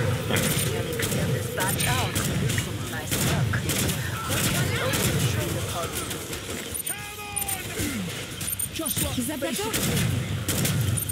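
Gunfire in the video game Killing Floor 2, with dense bursts of shots and impacts running continuously over busy game noise, with someone talking over it.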